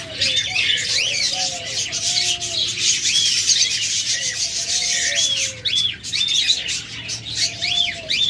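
A female cage bird, budgerigar, cockatiel or lovebird, calls repeatedly from inside a nest box, with rising and falling chirps and squawks and a scratchy rasping texture, close and fairly loud, without talk.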